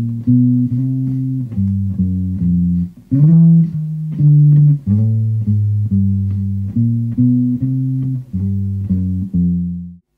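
Guitar walking bass line with added chromatic passing notes above and below the roots: a steady, busier run of low plucked notes, some in quick pairs, played close and alone.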